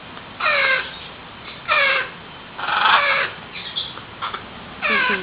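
Baby birds cry in repeated shrill, harsh calls, several bursts spaced a second or so apart, close and loud with no talking.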